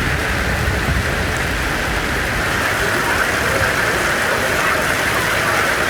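Heavy rain pours down around Veppanapalli in Krishnagiri district, Tamil Nadu, as a loud, dense, continuous roar of water with no breaks.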